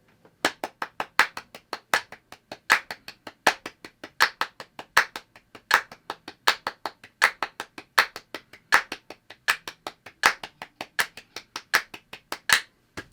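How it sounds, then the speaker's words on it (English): Crisp hand claps repeat in a fast even rhythm, four to each beat of a metronome, sharp and close with no talking, continuing steadily for over twelve seconds. "here's the ultimate. 4 claps on every click."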